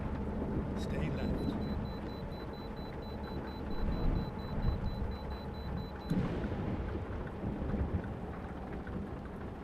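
Thunder and rain in American Truck Simulator: a steady wash of rainfall over a low rumbling bed, with a thunder crack around the middle and continued rolling rumble, fairly quiet overall.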